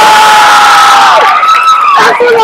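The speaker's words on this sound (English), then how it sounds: "Give her a huge round of applause." Crowd cheering at a bikini competition, the 2016 Paradise Cup Championships; loud, close shrieks and whoops from many voices rising and falling over a couple of seconds.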